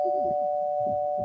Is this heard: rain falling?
no